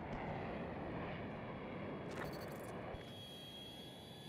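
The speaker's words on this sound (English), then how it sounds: "Might be in trouble here with this jet behind me." An enemy jet in the video game Battlefield 2042 roars past with a loud, steady engine rumble and broad rushing noise, and a brief higher whine mid-way as the sound shifts, with no voices.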